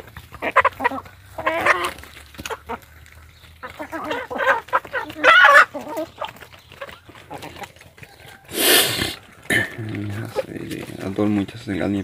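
Several chickens cluck and call close by while eating, with scattered pecking and rustling, as a person talks over them throughout.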